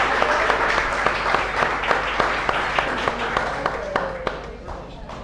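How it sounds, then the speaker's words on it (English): Applause from a live audience cheering on competitors midway through a chef showdown cooking contest, with individual sharp claps standing out over a busy crowd, and voices talking beneath it. "Let's give them a big round of applause to get it going."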